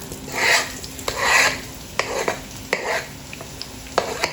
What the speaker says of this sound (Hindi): यहाँ पे थोड़ी सी अजवाइन डाल देंगे, साथ ज़ीरा ऐड कर देंगे।